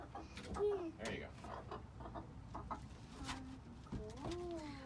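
Chickens cluck in a chicken coop during cleaning, with several close, uneven clucks and short calls rising over a steady background rustle and faint human voices.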